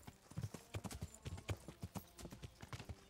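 Horse hooves while riding in the video game Kingdom Come, a quiet, steady clip-clop of gait beats close by with no other sound competing.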